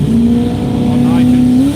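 A Valiant wagon drag car with a 360 R3 engine on nitrous at a radial drag racing event in Australia, giving a loud, steady engine drone under a voice talking.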